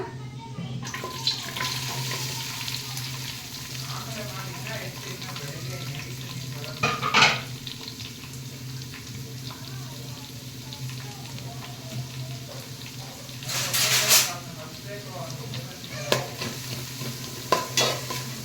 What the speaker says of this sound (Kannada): ಈರುಳ್ಳಿನ ಸ್ವಲ್ಪ ಫ್ರೈ ಮಾಡೋಣ